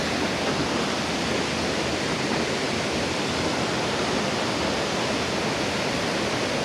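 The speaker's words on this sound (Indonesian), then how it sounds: "dan air terjun yang cukup raksasa" A large waterfall gives a steady, powerful roar of falling water, loud and constant throughout with no voices.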